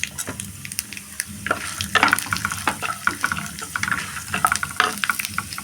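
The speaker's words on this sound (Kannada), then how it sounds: "ಕಡಲೆಬೀಜ, ಕಡಲೆಬೇಳೆ, ಉದ್ದಿನಬೇಳೆ ಇದೆಲ್ಲ ಸ್ವಲ್ಪ ಎಣ್ಣೆಲಿ ಫ್ರೈ ಆಗಬೇಕು" Peanuts, chana dal and urad dal frying in oil in a pan, with close crackling sizzle and irregular stirring scrapes and pops throughout, no voices.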